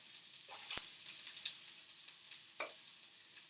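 Onions and garlic for a spicy lentil stew lowered into hot oil in a pan, a close crackling sizzle with sharp pops and a metallic clink early on.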